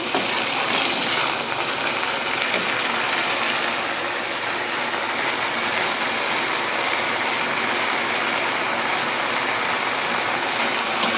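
Leafy greens being fried in a pan for a few minutes before going into dal, giving a steady, even hiss that stays constant throughout with no voices over it.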